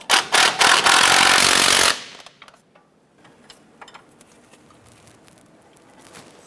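An impact or ratchet tool rattles in short bursts then a steady run for about two seconds while tightening motor mount bolts on a Chevy S10, followed by faint clinks and handling noises.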